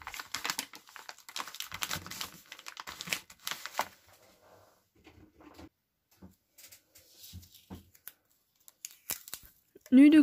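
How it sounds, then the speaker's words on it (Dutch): A bubble envelope being sealed by hand gives crinkly rustles and tearing scrapes of plastic and paper in short, uneven bursts, close up, with quiet gaps and a brief voice near the end. "Dan doe ik de bubbel envelop dicht"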